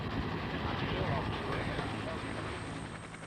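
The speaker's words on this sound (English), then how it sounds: "the helicopters head back to refuel and rearm." The steady, dense roar of military helicopter rotors and engines fills the air, loud and continuous throughout, as the helicopters fly during the Vietnam War.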